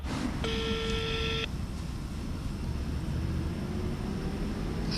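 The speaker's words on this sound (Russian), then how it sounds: "Телефонные гудки тоже остались без ответа" A single telephone ringback tone plays on an unanswered call: one clear electronic beep lasting about a second, heard faintly over a low hum of background noise.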